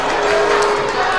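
Basketball crowd cheering in an arena during a college men's game, a loud, dense roar of many voices that stays steady and close for the whole moment.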